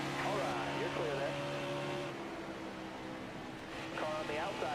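Race cars in NASCAR Heat 4 run close together, steady engine drone with pitch sweeps as cars shift and pass, moderately loud beneath someone talking over the action.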